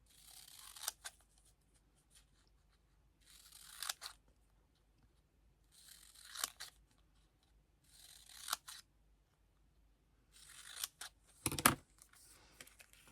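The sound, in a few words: scissors cutting diamond painting paper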